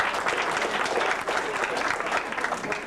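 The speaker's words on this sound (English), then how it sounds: "Let's give them a big round of applause." Audience at a 40th high school class reunion applauding, a dense, steady wash of clapping from many people, fairly close and continuous throughout.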